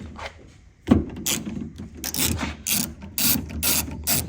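Ratchet turning a Torx T27 screw on a 2024 Toyota Tundra door handle, a series of close, crisp clicking strokes in short irregular bursts against a quiet background.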